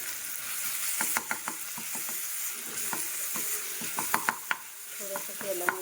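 Okra stir-fries in oil with cumin and green chili over a wood-fired stove, a steady crackling sizzle broken by sharp scraping and clinking strokes of a spatula against the pan, close and moderately loud without talk.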